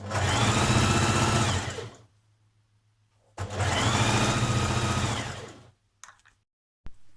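A sewing machine stitches a skirt seam in two long bursts of fast, even whirring, separated by a short pause, with a couple of brief clicks near the end and no talking.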